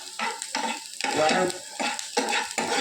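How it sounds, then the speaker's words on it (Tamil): Onions sauté in a pan, heard as a close sizzle broken into rhythmic bursts as they are stirred and tossed, with faint utensil scrapes and no talk. "வெங்காயம் வதங்கிடுச்சு."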